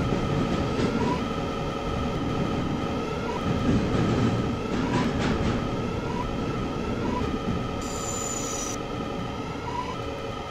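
A Roblox R211 New York City subway train pulling into a station, with a steady loud rolling rumble, rail clatter and brief squeals, and a short high chime near the end.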